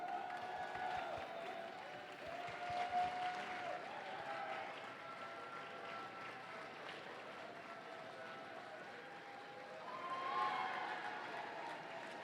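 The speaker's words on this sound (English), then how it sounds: "And the crowd goes wild." Crowd at a FIRST Robotics district event at Kettering University applauding and cheering, a steady wash of clapping and distant whoops filling a large arena, sustained throughout.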